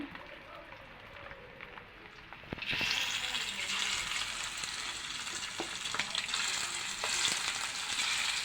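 Hilsa fish bones, head, tail and roe fry in hot oil, a steady, loud, close sizzle that bursts in after a couple of quiet seconds and crackles on without pause.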